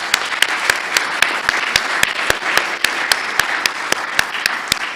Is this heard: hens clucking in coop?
no